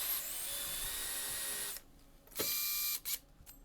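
Power drill spinning a paint roller cover to clean it, a loud high whine that runs steadily, then cuts off and returns in two short bursts.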